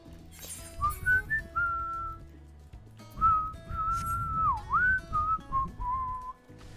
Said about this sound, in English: I don't think my microphone likes when I whistle.